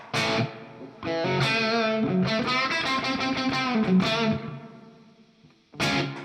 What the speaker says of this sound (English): I quite like a hall reverb.